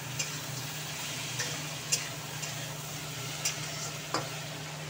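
Lentil dumplings (bori) being stirred in a pan: soft, spaced scrapes of the spoon at irregular intervals over a faint, low background hum, with no talking.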